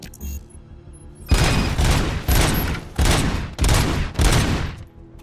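Gunfire in Robocop: Rogue City aimed at a fuse box: five loud, heavy bursts of shots in an even rhythm, each with a short decay, after a brief quiet lead-in with faint blips.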